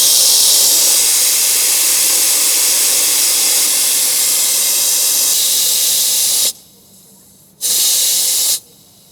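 Air hisses loudly out of a caravan tyre being deflated for towing on sand, a close, steady rush that stops suddenly, restarts briefly and cuts off again.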